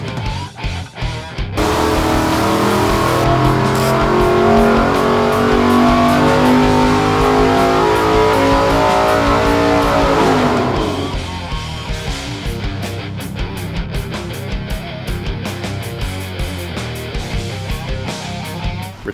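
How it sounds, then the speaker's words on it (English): A 491 cubic inch big-block V8 with a solid roller cam, 10:1 compression and AFR 335 heads runs naturally aspirated on a dyno, roaring loud and close as it revs up, holds a sustained pull, then drops abruptly to a lumpy idle. "491 cubic inch big block with a 272 at 50 solid roller cam, 10:1 compression, and AFR 335 heads"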